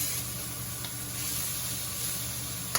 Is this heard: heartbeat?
no